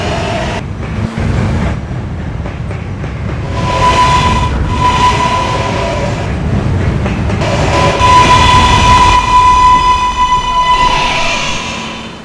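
An R143 subway local train runs loudly and steadily, rumbling and clattering throughout, with a sustained electric whine rising and holding in the middle and again toward the end before easing off.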